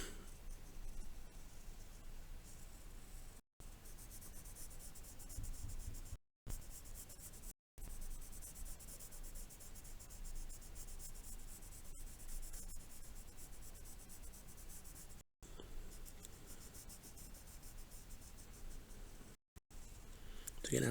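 A pencil shades wood grain onto paper in a long, soft, continuous scratchy rubbing that is close and faint, broken by a few brief pauses as the pencil lifts.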